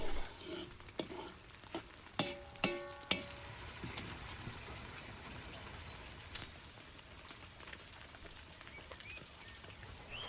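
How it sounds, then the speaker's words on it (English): Quiet sizzling from beef searing in its own fat in a hot pot for stew, with scattered clinks and scraping as it is stirred, no talking. "let's send the beef into the pot, sizzling in its own fat."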